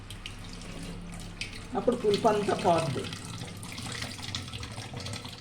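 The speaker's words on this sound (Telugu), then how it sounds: "నీళ్ళు వేసి కడిగేసుకోవాలి," Running tap water rinsing freshly strained paneer, a clear splashing burst of water in the middle of the stretch under a voice talking, with quieter room noise before and after.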